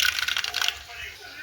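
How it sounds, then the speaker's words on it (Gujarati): Mustard seeds are tipped into hot oil in a cooking pot, giving a brief scattered rattling patter for under a second before settling into a faint hiss. "તેલ ફૂલ ગરમ થઈ ગયું છે. તો હવે નાખશું રાઈ."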